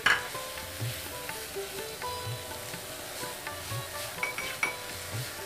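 Ghee goes into a fish chop mixture in a pan, giving a soft steady sizzle while a spoon stirs and clinks against the metal in repeated, fairly quiet strokes.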